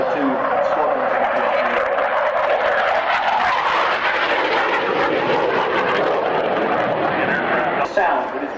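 Military jet making a slow-speed approach at the Biggin Hill Airshow, a loud continuous engine roar that swells and shifts in pitch across the pass, with a commentator's voice running over it throughout.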